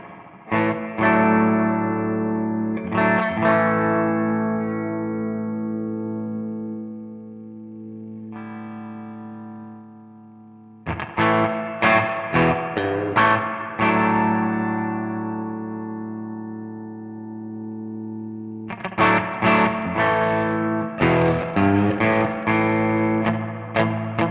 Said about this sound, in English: that's what the pedal sounds like. The overdrive sounds like with reverb